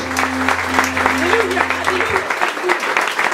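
A church congregation claps and cheers in a loud, dense wash of applause during a lively service, with voices mixed in and a sustained organ-like tone underneath.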